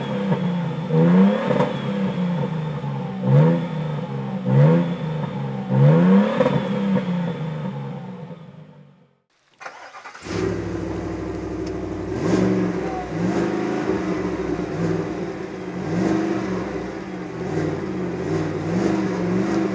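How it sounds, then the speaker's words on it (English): A Chevy Tahoe Z71 SUV engine revs repeatedly, each blip climbing and falling, then after a brief silence a second stretch of steady, throaty engine drone continues close and loud. "I also like the way this Chevy sounds more"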